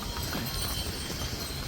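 Horse hooves clop steadily along a crowded mountain pilgrimage path toward Kedarnath in Uttarakhand, a continuous fairly close rhythmic clatter blended with outdoor crowd noise.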